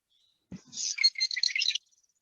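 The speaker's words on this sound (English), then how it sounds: "That's a recording of a marsh wren." Marsh wren song from a small bird among tules and cattails in a wetland: one short call note, then a rapid, buzzy, rattling trill that lasts about a second, clear and fairly close.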